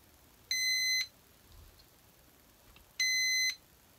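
Vulture Systems ice fishing tip-up alarm sounding two loud, steady electronic beeps about half a second each, separated by a couple of seconds of quiet background.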